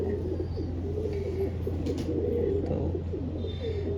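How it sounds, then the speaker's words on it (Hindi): Pigeons at a Lucknow pigeon market give low, repeated coos over a steady background hum, with a brief spoken word. "ले दोस्तों तीसरा कबूतर ये है"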